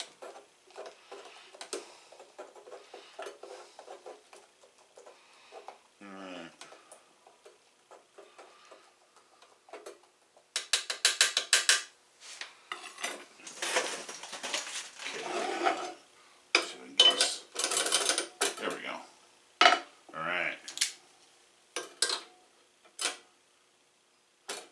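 A metal tool stirs molten lead in a bullet casting pot for .69 caliber round balls, producing irregular scraping, ticking and clinking taps close by that turn busier and louder partway through.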